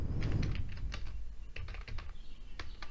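Typing a command on a computer keyboard in a Windows 10 DISKPART session, a quick close run of soft key clicks, irregular in rhythm and fairly quiet, with no one speaking.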